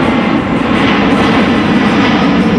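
A C-17 Globemaster III military jet transport roars past at an airshow, a loud, steady, broadband engine rumble close overhead with no break.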